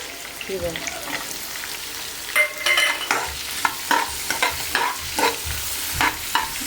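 Chili chicken with onion and capsicum stir-fried in a pan, with loud repeated scraping strokes of a spatula over a constant close sizzle.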